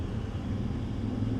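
An Infiniti G37s engine drones steadily while driving at highway speed, a low, even rumble with road noise, heard briefly and without talk.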